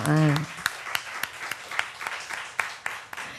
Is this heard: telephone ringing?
no